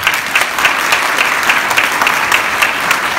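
Film-premiere audience applauds an actor at a screening of the 2018 film Frangin in Reims, a dense, loud, continuous burst of clapping from a crowd filling the room.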